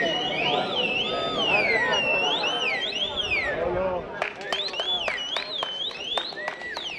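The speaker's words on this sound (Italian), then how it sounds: "quella che più che una trombetta sembra un richiamo per la selvaggina" A prank horn in Treviso's Piazza dei Signori gives out wavering, rising and falling honks like a hunting game call, first as long sweeping tones and then as quicker bursts, over a murmuring outdoor crowd.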